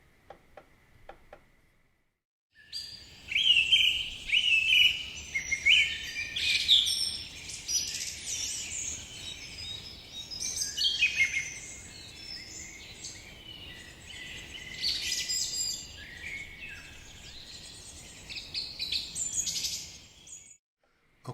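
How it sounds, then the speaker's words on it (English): Recorded forest ambience carries steady layered birdsong and high chirps throughout, with a soft insect tick in the background. It begins after a few seconds of near silence. "Let's first start with the forest sounds, you know, what you would typically hear."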